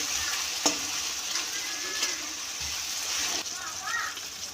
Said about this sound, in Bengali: সবগুলোকে ভালোভাবে একসঙ্গে কষিয়ে নিতে হবে।